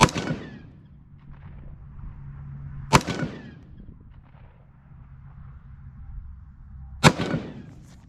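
Three sharp rifle shots from a Ruger AR-556 fitted with a CMMG .22LR conversion, fired outdoors at a target range, spaced a few seconds apart with brief echoing tails and quiet ambience between.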